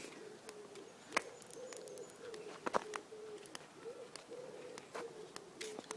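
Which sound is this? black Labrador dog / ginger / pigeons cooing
pigeons cooing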